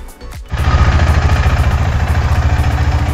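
A motorcycle engine idling close by after a short starting burst, a loud steady throbbing pulse with no speech.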